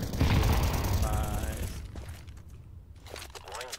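Gunfire rattles in the video game Counter-Strike 2, a dense burst of shots early on that gives way to quieter game sounds, with players talking over the action.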